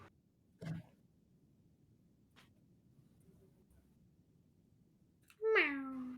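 A cat meows in the Spider-Man 2 video game, a single rising-then-falling call near the end, loud and close, after a faint click and quiet background ambience.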